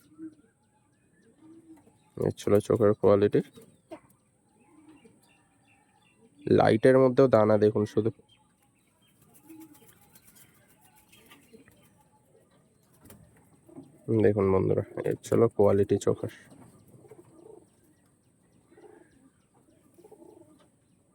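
Pigeons, quality flying breeds, coo softly in a loft between stretches of someone talking, the low burbling calls faint and intermittent under and around his voice.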